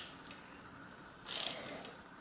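A ratchet tightens a bicycle crank arm onto a square-taper bottom bracket spindle, with a short burst of quick, close pawl clicks after a quiet moment, then fading handling noise.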